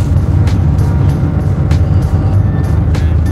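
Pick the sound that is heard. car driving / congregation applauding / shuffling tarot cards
car driving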